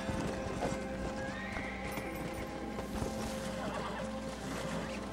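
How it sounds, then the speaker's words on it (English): An undead horse in Red Dead Redemption: Undead Nightmare gallops with a continuous patter of hoofbeats, and a whinny rises over the steady clip-clop. "looks just a regular undead horse to me"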